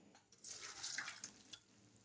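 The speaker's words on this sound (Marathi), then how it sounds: "तर आता मी यातलं पाणी सगळं काढून घेणार आहे." Water from cooked lentils poured through a sieve set over a vessel, a quiet, short splashing trickle with no talking.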